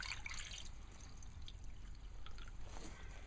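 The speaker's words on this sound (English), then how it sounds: "the water coming out of the pipe is frozen at the end of the pipe. So here it comes. It's still flowing." Water keeps flowing out of a partly frozen pipe into a trough in the cold, a steady close pouring and trickling with small drips, no voices.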